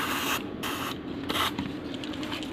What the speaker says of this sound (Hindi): आपने WD-40, ये देखें मेरे पास WD-40 है, इसकी एक बाटल ले लेनी है और उसका यहाँ पे इस तरीके से स्प्रे कर लेना है